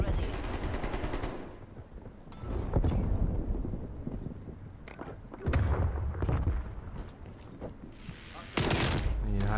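Machine gun fire in Call of Duty Black Ops, loud bursts of rapid automatic shots in several clusters with sharp onsets, mixed with game ambience and effects throughout.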